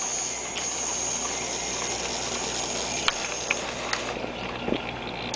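A crayon-melting painting machine with a motor and applicator running, giving a steady mechanical whir and hiss with a few faint ratcheting clicks near the end and no talk.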